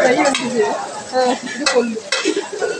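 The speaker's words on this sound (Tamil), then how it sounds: "இங்கே வந்து வஞ்சர மீன் ஃப்ரை ஆகிட்டுருக்கு" Seer fish frying in a pan, a close sizzle with scraping and clattering of a utensil against the pan in irregular bursts.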